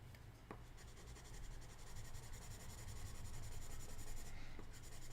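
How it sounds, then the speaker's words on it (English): Paper held down with washi tape is rubbed on its back in a steady, soft scratchy rasp that keeps going close by and grows slightly louder, with no voices. "We're just going to rub the back."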